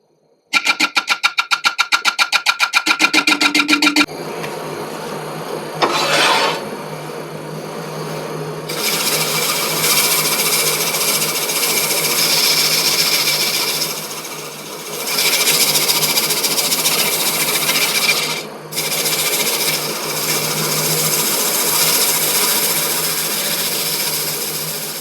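Woodturning tool being sharpened on a powered grinder or sharpening machine: a rapid rattling whir at first, then a steady high grinding drone as the tool is pressed on, easing and resuming in passes.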